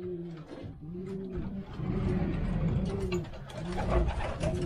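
Stock and young pigeons in a loft coo repeatedly in soft overlapping low calls, close by, with some rustling and faint mechanical clicks behind them.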